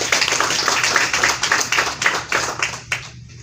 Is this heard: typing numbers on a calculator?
no